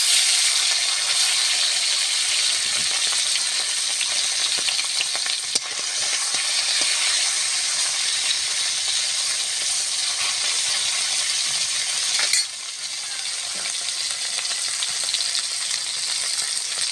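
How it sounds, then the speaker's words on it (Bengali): Fish, three kinds of local freshwater fish, fry in hot oil, giving a loud continuous sizzle with crackling bursts and occasional sharp clicks of a utensil. "বাকি মাছগুলো ভেজে নেব"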